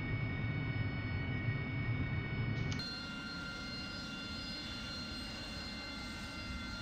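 Steady whine and roar of a Harrier jet engine spooling before a vertical takeoff in DCS, loud and continuous, dropping to a lower, smoother tone partway through.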